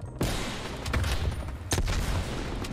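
Gunfire from an AUG rifle in a Call of Duty match on the Nuketown map: a steady dense crackle of shots with two sharper loud bursts, close and continuous, with no talking.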